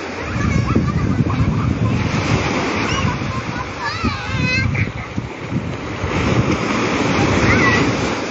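Ocean surf rolls onto a beach at Cilacap with a loud, continuous wash and wind buffeting the microphone, while nearby voices call out over the waves.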